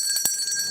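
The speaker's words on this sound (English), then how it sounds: "Please ring the bell for Mr. One more time." A ceremonial bell struck on a television news studio set, giving a brief bright ring with a sustained high metallic tone over a short, quiet moment.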